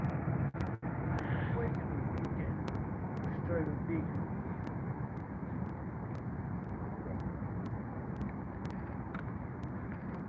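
A Boeing 787 Dreamliner passes at London Heathrow, a faint, steady low roar that lasts about ten seconds with some wind buffeting over it.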